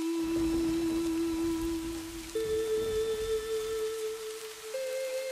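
Steady rain falls on a rainy day, a continuous soft hiss with sustained tones ringing above it and no voices.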